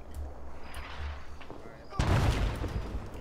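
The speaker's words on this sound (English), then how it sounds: "Are these mortars? We're mortared." Mortar rounds land in a military video game, a low rumbling backdrop broken by a sudden loud, close blast that rolls on with crackling debris and booming echoes.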